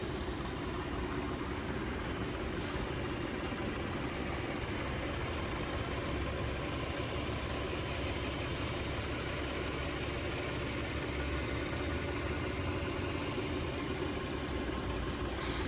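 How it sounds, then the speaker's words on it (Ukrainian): A 2017 Audi Q7 engine idles quietly and evenly, a low steady hum with a faint ticking texture that holds throughout. "Покажу, як працює двигун."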